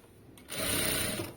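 A sewing machine runs a short steady burst of stitching along a folded fabric edge while tailoring, starting after a brief quiet moment and humming continuously close up before easing off.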